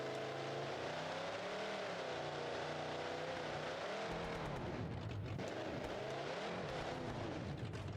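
A Blackmagic monster truck in BeamNG.drive roars hard with a loud, sustained engine note that rises and falls through revs, with a brief dip and rough crunching partway through before surging again.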